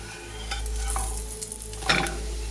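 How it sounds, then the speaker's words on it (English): Spelt flatbread is flipped with a spatula in a frying pan, a couple of quick scraping clacks over a steady close sizzle of hot oil. "And flip them with a spatula,"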